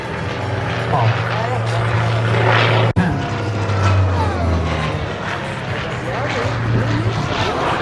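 Steady droning propeller engines of a DC-3 airplane, loud and continuous, with a voice speaking over it.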